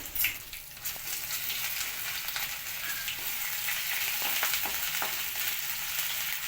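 Homemade garlic and ginger paste fries in a pan for a North Karnataka vegetable upma, a low continuous sizzle with a few light knocks from stirring, quiet and near, no one speaking.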